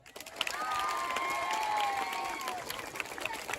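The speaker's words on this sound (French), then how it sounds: "je veux attendre un tonnerre d'applaudissements" Audience applause and cheering at a French school championship, a sustained crowd roar with clapping and a tonal whistle or horn layered through the middle.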